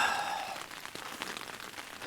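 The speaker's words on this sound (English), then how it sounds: "4 hours now of rain and hail and thunder and lightning, so hopefully we're nearing the end of this." Steady rain and hail pelt down during a long mountain thunderstorm at Big Pine Lakes, a dense even patter close by with a few sharper hits, heard alone.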